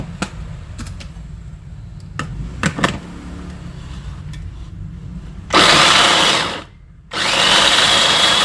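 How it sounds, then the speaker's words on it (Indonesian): An electric grinder coarsely grinds spices with galangal for a jackfruit and coconut milk curry. Light taps and clicks come first, then two loud, rough bursts of whirring, split by a brief pause. "saya akan hanya menggiling bumbunya seperti ini, jadi dia agak kasar"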